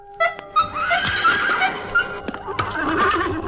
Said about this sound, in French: 6 chevaux pour tirer mon carrosse.